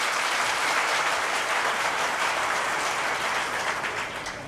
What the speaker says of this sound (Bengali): এদের সবার জন্য আমি আপনাদেরকে অনুরোধ করবো একটা জোরে হাততালি দেওয়ার জন্য